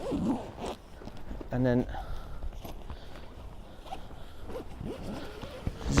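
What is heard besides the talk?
zipping closed on Coleman Fast Pitch Air Valdes tent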